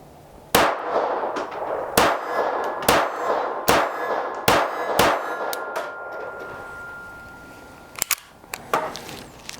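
Ruger LCP II Lite Rack .22 pistol fired outdoors with Winchester rounds: a string of about seven sharp, loud cracks at uneven intervals, some spaced a second apart, then a short pause before two or three final shots close together.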